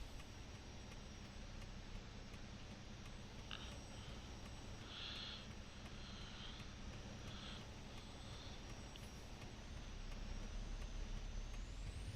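Air brakes release on a Western Star 4900 truck in American Truck Simulator, a brief hissing burst over the steady drone of the idling engine.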